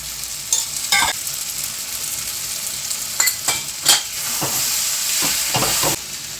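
Spiced filling of poppy seeds, garam masala, ground coriander and red chili is stirred and sautéed in a pan, giving steady frying sizzle broken by several sharp scraping strokes of the spoon, close and clear with no talking.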